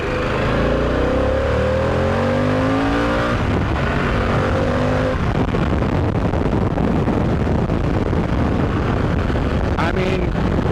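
A Harley-Davidson Pan America motorcycle pulling hard in second gear from about 22 mph, its engine note climbing under heavy wind rush, loud and close throughout.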